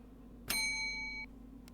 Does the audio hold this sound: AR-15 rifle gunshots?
no